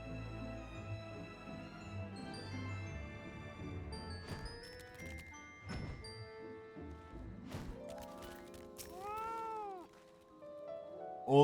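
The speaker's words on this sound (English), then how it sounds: "I managed to get Fat Cat twice in a row" Fat Cat in Final Fantasy XIV lets out several clear meows between clattering thuds and chiming tones, the cries rising and bending in pitch, moderately close and fairly quiet, with no talking.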